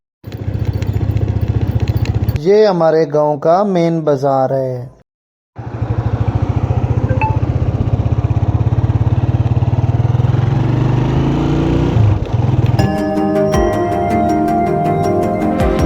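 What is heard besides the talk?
motorcycle engine running while riding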